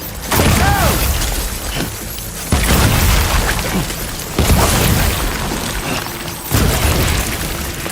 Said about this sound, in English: Let's just throw all the fucking grenades.